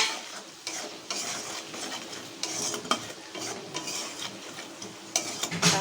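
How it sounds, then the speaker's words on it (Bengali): A spoon stirs ground cumin through hot oil in a frying pan, with steady close scraping and soft sizzling in uneven strokes and no voices. "আর এখানে হচ্ছে একটু জিরের গুঁড়ো দিয়ে দেবো 2 চামচের মতো, দিয়ে ভালো করে নেড়ে চেড়ে"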